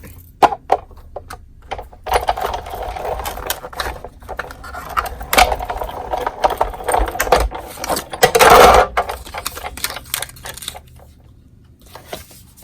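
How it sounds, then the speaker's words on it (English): A Merry Christmas paper die cut being cut out for a farmhouse-style Christmas card, heard as a run of light clicks, ratcheting and small mechanical ticks, with a louder burst of crunching near the end, fairly close and without talk. "Then we're going to cut out the Merry Christmas."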